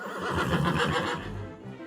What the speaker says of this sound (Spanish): Creo en el caballo.